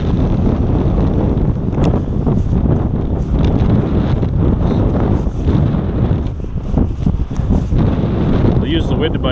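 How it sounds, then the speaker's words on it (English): Strong, steady wind buffets the microphone on an Ontario lake while fishing from a boat near a cottage, a loud continuous roar with gusting rumble and no break across the whole stretch. "it's just windy as ever again"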